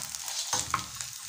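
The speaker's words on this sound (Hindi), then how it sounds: "कितने ज़बरदस्त ये फ्राई हो रहे हैं" Fry papers crackling and sizzling in hot oil in a pan, a dense steady hiss with small bright pops, close and continuous, no voices.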